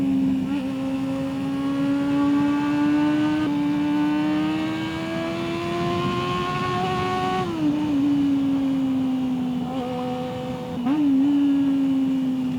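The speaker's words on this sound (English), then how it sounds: "this is an absolute screamer of an engine" A 250cc motorcycle engine revs hard near 20,000 RPM, a sustained whining drone that rises, dips briefly, then climbs again, loud and close.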